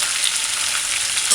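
Bacon frying in a pan for a Jamaican ackee and bacon breakfast, a steady, dense sizzle that is loud and close and runs unbroken with no talk.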